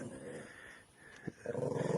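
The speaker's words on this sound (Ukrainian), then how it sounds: "Чуєш пес?" A dog growling low and close, a long rumbling snarl that fades briefly and then returns louder and pulsing, with no talk over it.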